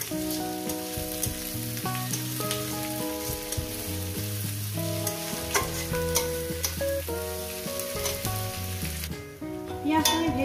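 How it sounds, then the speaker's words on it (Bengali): Onions frying in hot oil in a pan give a continuous close sizzle with crackling pops, running under steady background music. "এবার এটাকে আমি প্রায় 2-3 মিনিট ধরে আমি পেঁয়াজটাকে ভেজে নেব"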